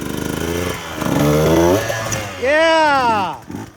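A KTM 150 XCW two-stroke dirt bike engine revs and climbs sharply in pitch while riding over a pole jam, loud and close, with people talking and cheering over it.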